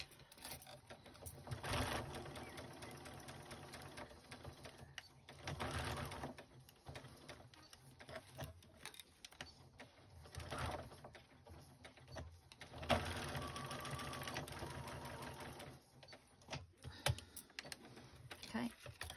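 A sewing machine stitches a rip repair on a jumpsuit in quick mechanical runs, whirring in several bursts separated by short pauses, fairly close and moderately quiet.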